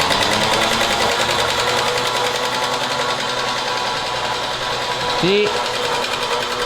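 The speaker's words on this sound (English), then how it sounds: "go spool out the winch" The winch motor on a Toyota Hilux spools out cable with a close, continuous mechanical whirring and buzzing. A voice speaks briefly over it near the end.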